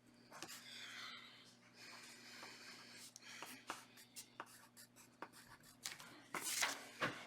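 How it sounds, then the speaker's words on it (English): Pencil scratching on paper while a number is written down, soft irregular strokes and taps close by over a low steady hum, with a brief louder scribble near the end. "we grab our piece of paper and our pencil and we write down the new number"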